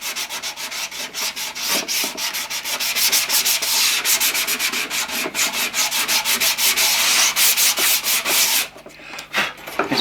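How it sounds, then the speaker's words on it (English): Hand sanding of a super-glued wooden joint on a chalk crushing silo, a steady rapid scratchy rubbing in quick back-and-forth strokes that stays close and loud, slowing and breaking up near the end. "put a little bit of super glue on, wipe off the surface, sand it"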